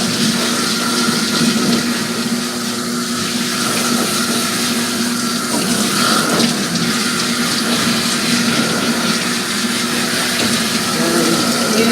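Running water rinses a show poodle during a bath, a continuous loud splashing gush that holds steady from start to finish.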